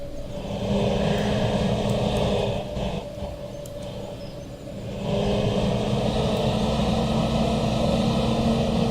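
A tractor engine idles nearby with a steady low rumble and hum that dips slightly for a couple of seconds mid-way, then returns to full level; no talking.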